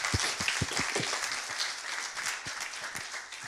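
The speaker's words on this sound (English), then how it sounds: "so a round of applause." A modest room of academic workshop attendees claps for the organizer, distinct individual claps audible within a moderate, fairly close round of applause that tapers off near the end.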